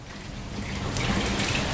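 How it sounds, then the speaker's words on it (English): Warm water poured from a measuring jug into flour for pizza dough, a short, steady splashing pour that grows slightly louder over under two seconds, with no talk. "So we'll stick in the warm water."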